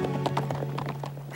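Horse hooves clip-clop in a steady, evenly spaced rhythm from Professor Layton and the Miracle Mask, a video game, played over a sustained low musical drone with no talking.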